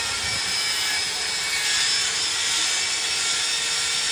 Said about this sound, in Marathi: ड्रिल मशीनने.